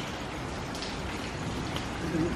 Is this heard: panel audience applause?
no